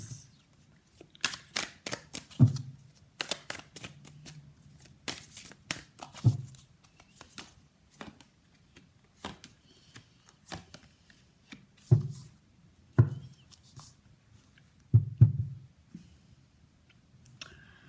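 Tarot cards being shuffled and handled during a reading, close, intermittent papery riffles and sharp card snaps in scattered bursts separated by quiet pauses, with no talking.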